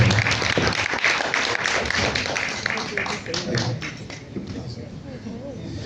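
Audience applause at a music industry workshop, a dense wash of clapping that starts loud and gradually tapers off, with some talk mixed in beneath it.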